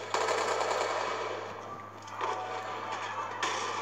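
Automatic gunfire in the Call of Duty 2 video game on an urban slums map, rapid bursts of shots blending into a dense, continuous rattle at moderate loudness.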